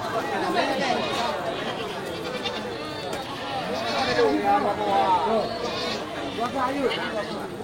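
Goats and sheep at an open-air livestock market ahead of Qurban, repeated bleats rising over a busy hum of crowd chatter, with people talking close by.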